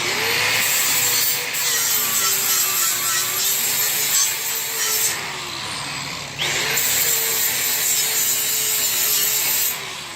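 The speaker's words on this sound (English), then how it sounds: "We're gonna grind it down, get us a little smoother spot." An angle grinder works down a weld tack on a metal backyard fire pit, a loud continuous whine close by with a wavering pitch, dipping briefly midway before resuming.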